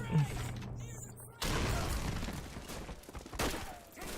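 A grenade explodes in Call of Duty 3, a sudden loud boom that cuts in and rolls on as a rumbling crash with scattered gunfire-like bursts, after brief game sounds.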